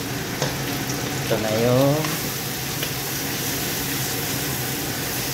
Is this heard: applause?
no